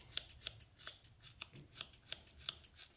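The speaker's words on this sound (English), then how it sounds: "But scissors work real great too." Scissors snip through sheepskin shearling for a pair of mittens, a steady series of crisp, close cuts about every third of a second, heard alone with no talking.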